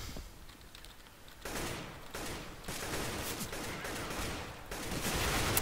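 Rapid bursts of gunfire crackle in quick succession in Counter-Strike: Global Offensive, fairly quiet and close, with clicking keys audible between the volleys.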